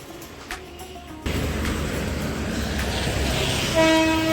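A train rumbles past near Chinchpokli station, its noise rising suddenly after a quiet, clicking start and staying steady, then a loud horn sounds near the end.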